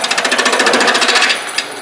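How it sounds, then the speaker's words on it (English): A half-inch spindle gouge cuts wood on a lathe while turning an eccentric snowman, giving a rapid, steady chattering rasp at close range that runs without a break and ends with one brief sharper knock. "I'm going to use my half-inch spindle gouge and cut this down."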